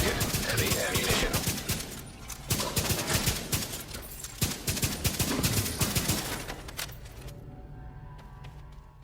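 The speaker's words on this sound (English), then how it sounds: "you fire one round when you pull the trigger and a second round when you release it" A Merciless rifle fires in The Division 2 in a loud, dense run of rapid shots that lasts most of the stretch before trailing off into quieter echoes.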